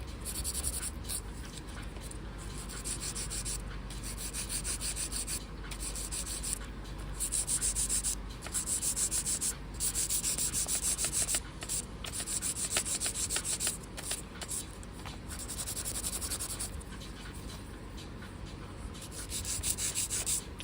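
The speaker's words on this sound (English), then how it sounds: "This is a 100 grit hand file." Steady rasping strokes of a 100 grit hand file sanding a surface, repeated in a regular back-and-forth rhythm, close and fairly quiet with no talking.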